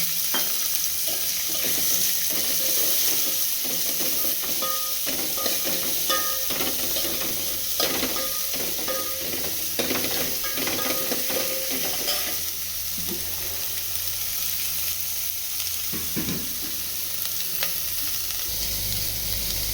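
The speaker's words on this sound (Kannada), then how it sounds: "ಇವಾಗ ಈರುಳ್ಳಿ ಹಾಕ್ತಾಯಿದ್ದೀನಿ, ಹೆಚ್ಚಿರೋ ಈರುಳ್ಳಿ." Chopped onions frying in hot oil for avarebele saaru, a steady close sizzle with light stirring scrapes throughout, no voices.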